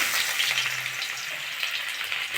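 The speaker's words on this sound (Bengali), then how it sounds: "আমি এবার পেঁয়াজ দিয়ে দেবো" Chopped onion sizzling in hot oil with five-spice (panch phoron) while a prawn curry with potato and bottle gourd stems is started, a steady, close frying hiss lasting throughout with no talk.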